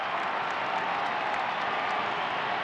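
A large Italian crowd applauds US President Wilson, a dense, steady wash of clapping that stays loud and even throughout with no single claps standing out.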